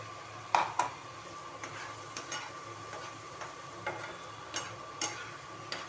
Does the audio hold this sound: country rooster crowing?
no